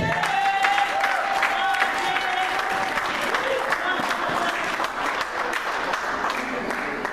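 A church congregation applauds and cheers loudly and steadily throughout, with voices calling out amid the dense clapping.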